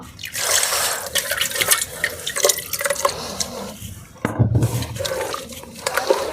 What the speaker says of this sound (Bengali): এখানে হচ্ছে ব্লেন্ডার জারটা ধুয়ে আর কিছুটা পানি দিয়ে দিব।